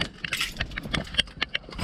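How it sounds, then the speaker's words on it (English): Keys jangle and clink in short, bright bursts, shaken a few times close by with small metallic taps between. "Probably help if I take the keys out of my pocket."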